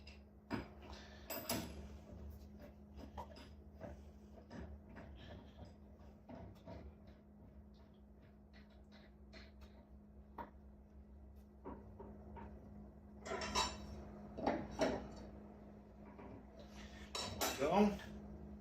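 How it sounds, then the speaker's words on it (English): Metal parts of a Powermatic spindle sander being handled as the throat plate is lifted out and the top nut removed: scattered clinks, taps and scrapes over a low hum, growing busier and louder toward the end. "take our throat plate out, take the nut off the top there"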